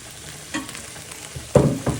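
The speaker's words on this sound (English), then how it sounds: "you give that a little bit of a stir" A sausage pappardelle sauce with passata and flat-leaf parsley sizzles in a pan as it is stirred, a low frying hiss broken by a few louder scraping bursts of the spoon.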